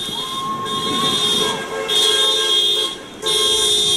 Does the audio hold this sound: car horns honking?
yes